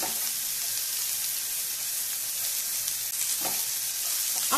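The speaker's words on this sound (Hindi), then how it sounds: "अब हम इस प्याज के साथ साथ इन मसालों को भी थोड़ा सा रोस्ट होने देंगे।" Onions and spices roasting in a hot pan for a soya chunks curry, a steady close sizzle and frying crackle with occasional stirring scrapes, no talk.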